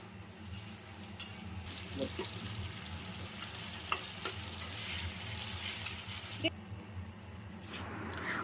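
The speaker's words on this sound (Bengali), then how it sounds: "এবারে বেটে রাখা মশলাগুলো দিয়ে দেবো। মশলাগুলো আরো কিছুক্ষণ কষবে।" Ground spice paste cooks down with tomato in a pan, giving a soft, steady sizzle with scattered scrapes and taps from a stirring spoon.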